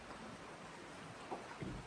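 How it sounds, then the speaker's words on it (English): Steady rain falls outdoors at a house where new windows and siding are going in, a dense, even hiss throughout with a couple of slightly heavier spatters and no voices. "It's raining for the next 4 days"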